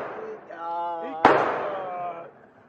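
A single sharp gunshot at an indoor or outdoor gun range, fired from 5 yards, cracks out loud and close midway through, with people talking before and after it.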